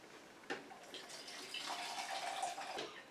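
Herb-infused vinegar pours through a strainer in a soft, faint trickle and splash of liquid, brief and quiet with no talking.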